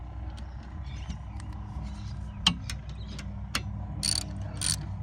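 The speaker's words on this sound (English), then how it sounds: "Switch your ratchet over." A ratchet wrench clicks on a bolt during a brake pad change on a Kia Sorento, a few sharp metallic clicks and taps over low background hum, close and moderately quiet, no talking.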